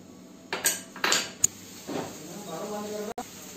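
A spoon clinks and scrapes against a metal cooking pot while tomato puree is mixed in, a few scattered knocks and a sharp tap over a low background hum.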